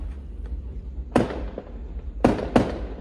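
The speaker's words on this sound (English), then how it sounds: "Whoa, they're doing fireworks over here." Fireworks go off outdoors on New Year's Eve: three sharp bangs, one alone and then two close together, ring out at a moderate distance over a quiet, low rumbling background.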